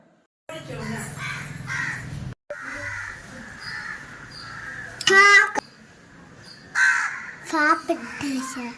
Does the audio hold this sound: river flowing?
no